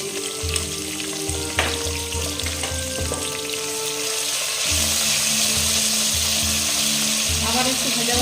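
Tomatoes and chopped vegetables with green chili fry in a pan, making a loud, continuous close sizzle that grows denser partway through, with rhythmic background music underneath.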